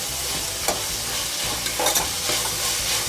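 Ginger garlic paste fries and is stirred in a pan for a tomato bath, giving a steady close sizzle with soft scraping strokes and a few brief clatters of the spoon against the pan.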